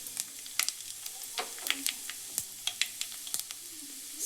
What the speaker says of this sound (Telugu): స్టవ్ మీడియం ఫ్లేమ్లో పెట్టుకొని ఫ్రై చేసుకోవాలి ఫ్రెండ్స్, లేకపోతే మాడిపోతుంది.